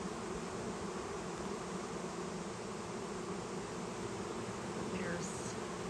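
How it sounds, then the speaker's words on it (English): A swarm of honey bees buzzes as a dense, continuous hum of many wings, moderately near and unbroken throughout. "A lot more bees than what he thought he had."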